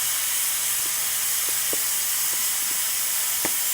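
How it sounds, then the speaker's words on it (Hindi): A pressure cooker on a home kitchen gas stove lets off steam in a steady, loud, broadband hiss that runs unbroken, with a few faint knocks and clicks underneath and no voices. "कुकर हमारा सीटी मार रहा है"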